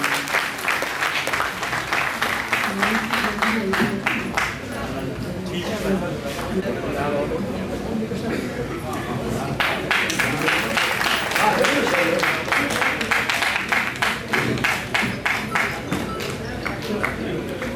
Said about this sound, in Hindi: उनके लिए जोरदार तालियां बजाकर स्वागत करें